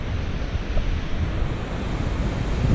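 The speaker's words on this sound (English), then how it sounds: "I'm at Edwin's View, looking at the Linville Gorge Waterfalls" Waterfalls in Linville Gorge seen from a distant overlook, a continuous even roar of falling water with some wind buffeting, steady throughout and no voices.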